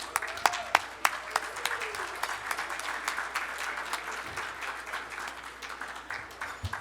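An audience at the IGFA Tommy Gifford Awards 2021 applauds as the president is welcomed to the stage, steady moderate clapping with a few sharper claps early on and faint crowd murmur underneath.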